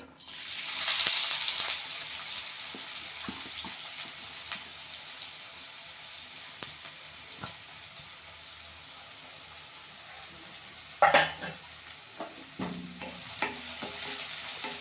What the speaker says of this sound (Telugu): ఇవి ఎర్రగైనంత వరకు ఇట్లా కలుపుకుందామండి